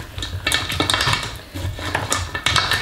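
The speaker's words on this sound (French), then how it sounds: "je viens un petit peu mélanger" A spoon stirs a pot of potato, broccoli, bacon and cream stew, making repeated scraping clinks and knocks against the metal in an uneven rhythm, close and fairly clear.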